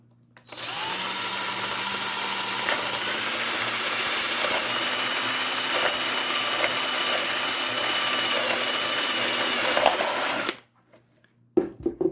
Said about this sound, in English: This is a wood drill bit, by the way, which is much better for plastic.